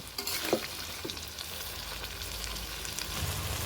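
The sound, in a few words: chickpea and potato ghugni cooking in a pan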